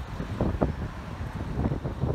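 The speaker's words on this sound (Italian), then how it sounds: "c'è tanto vento" Strong wind gusting at a grey seaside town on the French Riviera, buffeting the microphone in rough, uneven bursts with low rumbling noise and no voices.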